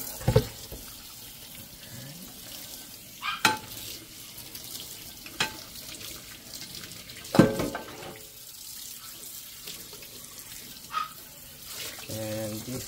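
Tap water runs steadily into a sink while dish sponges are rinsed, a continuous close splashing wash broken by a few sharp knocks and clatters.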